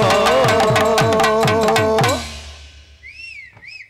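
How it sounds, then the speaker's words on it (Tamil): Music plays at a village drama performance in Vedhiyendhal near Manamadurai, then fades, and an audience member's shrill rising-and-falling whistle rings out twice near the end. "இந்த விசில் அடிச்ச ஆளுக்கு மட்டும் நன்றி"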